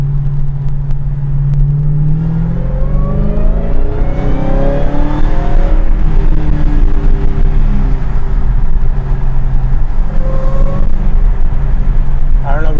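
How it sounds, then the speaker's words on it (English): A 2021 Dodge Charger Hellcat Widebody engine revs and accelerates with a high supercharger whine rising and falling above a deep rumble, loud and close throughout. "That supercharger whine is crazy."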